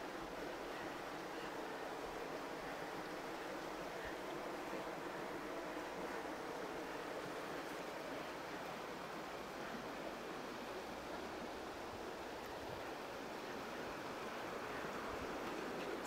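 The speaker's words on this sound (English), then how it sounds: "So, a few little rapids right there." Rapids on the Virgin River rush in a steady, broadband roar of churning water, continuous and fairly close, with no voices over it.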